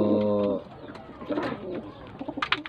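Pigeons coo in a loft during pair selection of cocks and hens, with several soft, throaty coos up close and scattered rustling and light bird sounds after.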